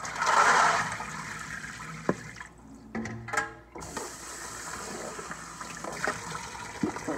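Water gushes loudly from a tap over red beans being rinsed at first, then fades into splashing, trickling and a few light clinks and knocks nearby.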